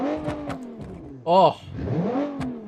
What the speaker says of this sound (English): rear engine V6. It's a burly sound of V6.